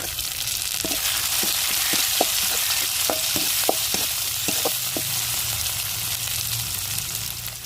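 Onion, garlic and tomato sizzle in hot oil in a pan for a seafood gravy. A steady hiss runs throughout, with a series of sharp stirring clinks in the middle and no talking.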